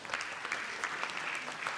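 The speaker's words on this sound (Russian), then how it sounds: "Давайте поприветствуем аплодисментами" An audience at a business forum claps steadily, a dense patter of many hands heard at moderate distance, with no voices on top.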